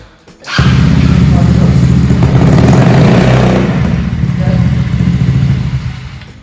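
A Kymco Agility 125 scooter engine, revived after sitting unused for three or four years, bursts into a loud, close rev and holds a rough, buzzing idle.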